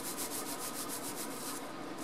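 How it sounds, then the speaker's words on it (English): Hands gently rubbing wet wool felt through a mesh produce bag, giving a soft, rhythmic swishing scrub that is close and continuous, without speech. "all you're going to do is very gently rub"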